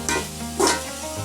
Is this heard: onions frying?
yes